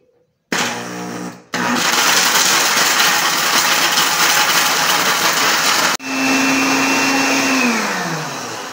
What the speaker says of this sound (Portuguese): Vou colocar no liquidificador para não poder bater para fazer a farinha.